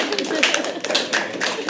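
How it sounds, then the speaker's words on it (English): Scattered clapping from a small audience at a live poetry open mic night, uneven bursts of hands under a few voices in a room. "Clap, it's fine."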